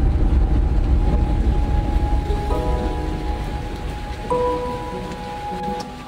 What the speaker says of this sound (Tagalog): Sugas ulan eh.